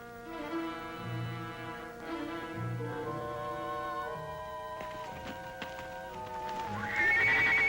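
Horse hooves clip-clop and a horse neighs in an old Western adventure scene, with brisk music playing throughout and a loud whinny near the end.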